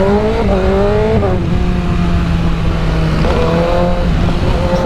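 A BMW M1000RR superbike engine revs loudly and continuously, its pitch sweeping up and down through several throttle blips and gear changes, close and dominant throughout.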